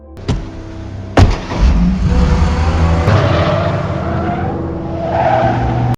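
A car speeds away in a film chase scene, with loud tire squeal and a revving engine after a couple of sharp impacts, the roar holding steady and then easing off without any speech.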